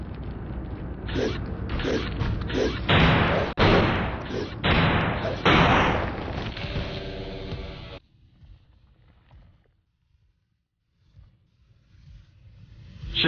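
A heavy metal door is forced open in the Iron Man PC video game, giving a run of loud creaking, grinding strains and thuds that end abruptly, followed by quieter ambience and a low rumble.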